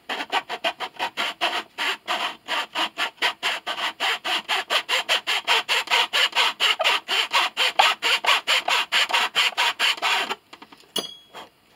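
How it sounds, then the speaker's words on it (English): A file rasps back and forth against the wooden rib of a cello under restoration, about forty quick, even strokes close up and fairly loud, stopping abruptly near the end with a couple of stray scrapes. "Hit it with the file again, see where we're at."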